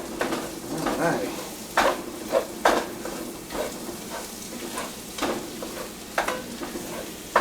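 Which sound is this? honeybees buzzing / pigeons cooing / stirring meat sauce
stirring meat sauce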